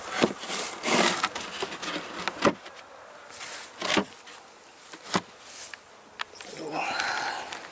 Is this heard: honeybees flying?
yes